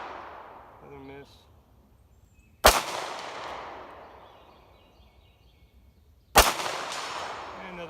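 Two sharp DSA SA58 rifle shots fired at a target 100 yards away, each a loud, abrupt crack followed by a long decaying echo, spaced several seconds apart outdoors.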